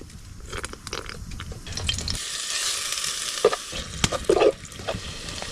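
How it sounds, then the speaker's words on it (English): Gravy cooks in a pan for biscuits and gravy at a snowy winter campsite, with a soft continuous sizzle and a few stirring scrapes and clinks nearby. "for breakfast, I'm gonna make biscuits and gravy."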